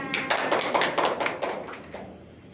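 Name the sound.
classroom applause for a student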